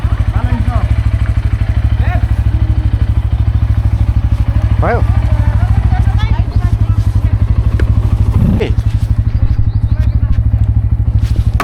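A motorcycle carries riders on a road trip from Khaireni toward Kathmandu, its engine a loud, steady, close drone running the whole time, with people talking over it and occasional clatter and thumps.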